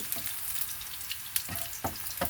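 Garlic frying in hot oil until brown sizzles in a steady hiss, with a few soft spatters and stirring knocks on the pan.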